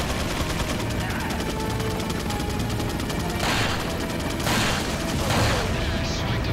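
Rapid gunfire from Resident Evil 3 rattles on without pause, a loud, dense volley of overlapping shots with a few heavier bursts near the end.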